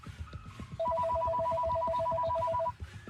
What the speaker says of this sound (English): Hang on, I gotta get the phone.